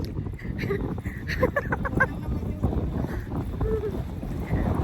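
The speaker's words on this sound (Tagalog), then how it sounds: "Lakas ng hangin!" Strong wind buffets the microphone in a steady, roaring rush, with voices calling out faintly beneath the gusts.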